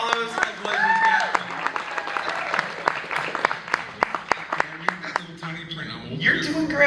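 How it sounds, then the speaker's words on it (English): An audience at the HopperCon 2024 awards presentations claps in scattered, sharp, evenly spaced claps that thin out, while a person speaks over them. "clap again for all those"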